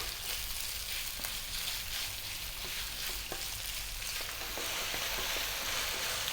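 Ground pork frying in a pan for a Filipino coconut dish, a steady close sizzle and spatter that runs evenly throughout, with a few faint clicks of stirring and no talking.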